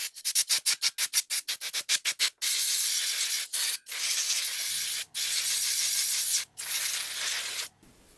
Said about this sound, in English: I think I'm gonna blow the dust off from the whole motherboard